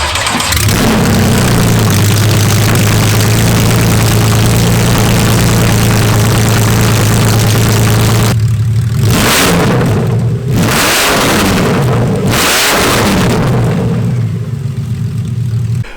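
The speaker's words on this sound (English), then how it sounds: "let's go ahead and do a cold start with open catless headers" A Porsche 911 with Fabspeed open catless headers cold-starts loud and close, a sustained high idle roar followed by several sharp revs and drops, engine alone without talk.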